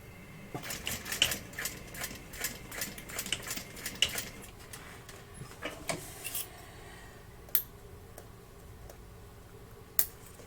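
A sewing machine stitches a line just beside a basting line while a bag is assembled, giving quick clattering bursts of needle strokes over the first six seconds, then a few isolated sharp ticks, all close and fairly quiet.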